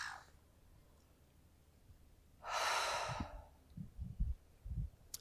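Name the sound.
deep breathing, inhales and exhales during yoga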